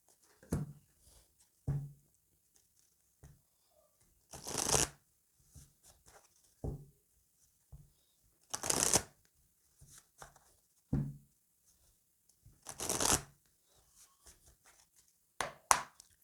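Oracle des Miroirs cards are shuffled in several bursts, each a rapid papery riffle lasting about half a second, with soft taps and card handling in between, close and fairly loud with no talking.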